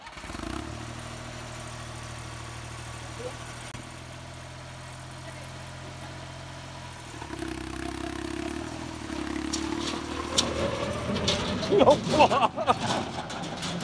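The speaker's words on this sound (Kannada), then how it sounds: "ನೋಡ್ರಿ ಟ್ರ್ಯಾಕ್ಟರ್ ಹೊಡ್ಯಾತಾರ" Farm tractor driven on an outing at Dharwad Adventure Base: a steady low engine drone idles for about seven seconds, then revs up and rumbles louder with clattering while people talk nearby.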